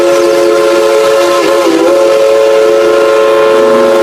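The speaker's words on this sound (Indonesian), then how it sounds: "Wow, ada kereta Thomas." Thomas toy train giving a loud, steady electronic whistle tone, one long sustained blast with a brief pitch dip midway, close and alone.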